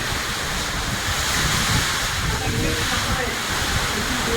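Strong wind buffeting the microphone outdoors, a steady loud rushing roar with gusty swells and hiss lasting the whole stretch, no other sounds standing out.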